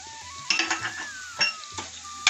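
Ground coconut masala stirred and sautéed in hot oil in a pan for a Karli fish sukka, with soft sizzling under a few scraping, clinking strokes of the spoon against the pan.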